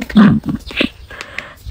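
Dog barking along a provincial road in the Philippines, from Manaoag to Lupao, one close, loud bark at the start followed by softer whimpering yelps, all amid road noise and background chatter.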